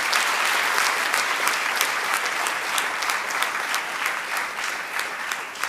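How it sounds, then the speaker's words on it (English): An audience at a laptop distribution event for underprivileged students at Raj Bhavan, Hyderabad, claps steadily in a dense, sustained round of applause that fades slightly toward the end. "Please give him a big round of applause."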